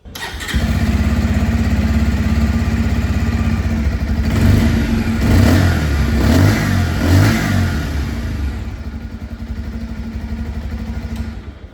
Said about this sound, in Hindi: तो ये था यहाँ पर पल्सर 125 की आवाज़